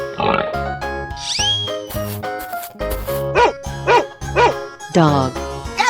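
Dog barking from a 3D animal video game follows a pig's oinks, a run of short, loud, evenly spaced barks over looping game music.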